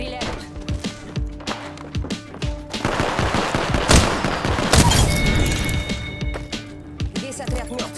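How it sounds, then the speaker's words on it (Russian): Apex Legends gunfire, rapid machine-gun bursts and single cracks stacking into a loud dense volley mid-way, with shell clinks and game voice callouts around it. "В меня стреляют."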